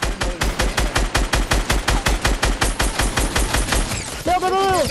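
Rapid, evenly spaced automatic gunfire rattles in a long sustained burst in a Fortnite match on PS4, then cuts off as a brief game effect sounds at the end.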